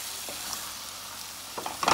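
Fish frying in a pot of Guyanese Hassa curry made with Madras curry powder, a steady loud sizzle with a couple of short scraping stirs toward the end.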